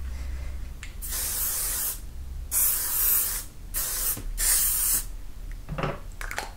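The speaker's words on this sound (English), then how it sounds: "And then if you like, you can finish with a bit of hairspray, entirely your call." Hairspray comes from an aerosol can in four or five short, sharp hissing bursts, with brief pauses between them. The bursts sound close and fairly loud, and no one speaks.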